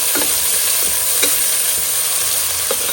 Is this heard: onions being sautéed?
yes